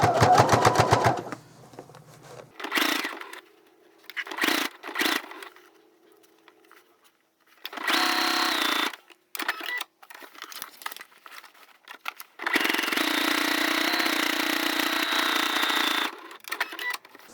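Sewing machine running rows of stitches on a placemat, in short stop-start bursts followed by two longer steady runs, close and clear, with no talking.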